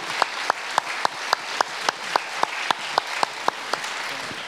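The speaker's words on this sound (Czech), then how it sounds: "A Světlan, za vašeho frenetického potlesku." An audience at a spring tour evening in Prague applauds, with a sustained wash of clapping marked by sharp, evenly spaced accents.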